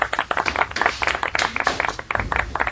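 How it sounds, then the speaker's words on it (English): A TV studio audience applauds to welcome a guest professor, giving brisk, dense clapping with sharp irregular hand strikes throughout, close and lively. "Please give a warm applause"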